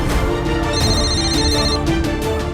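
A telephone ringtone plays loudly and continuously, a repeating electronic melody with no speech over it, in an indoor home setting.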